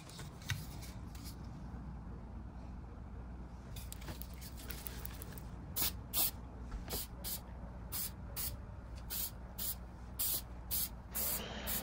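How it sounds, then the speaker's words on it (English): Short bursts of a shellac spray can hiss repeatedly in quick succession while spraying a base coat onto a wooden side table, each a sharp spurt, over a quiet background hum. "I actually don't like using the spray shellac as a base coat"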